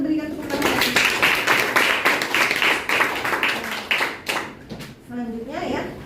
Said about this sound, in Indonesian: Hebat jawaban teman-temannya, boleh kita berikan tepuk tangan.